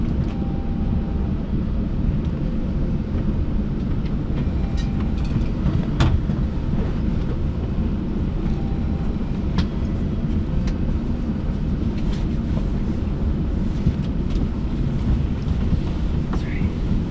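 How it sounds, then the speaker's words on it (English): A GO Transit Lakeshore West commuter train departs, its steady rumble, rolling rail noise and wind filling the whole stretch with a constant loud roar and occasional faint clicks. "Please use all available doors to board the train."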